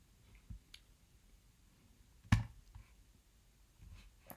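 A single sharp computer mouse click stands out in a quiet room while working in Maya, with a few fainter soft clicks and light handling noises around it.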